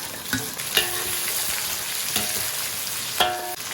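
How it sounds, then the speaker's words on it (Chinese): Scallion, ginger and garlic fry with spices in hot oil in a wok, a steady sizzle broken by a few sharp metallic clanks of a spatula against the pan. "葱姜蒜爆香"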